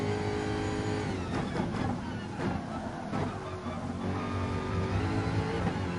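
Race car engine in a racing video game at the Red Bull Ring, droning steadily and loud throughout with rising and falling revs through corners, a faint voice mixed in.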